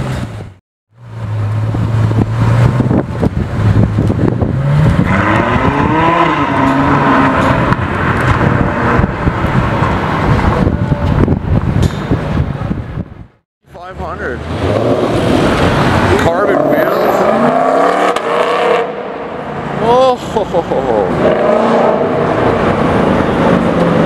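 A Lamborghini Diablo is driven out with a loud, close engine roar and rising revs, mixed with people talking throughout and a brief drop-off midway before the engine noise resumes.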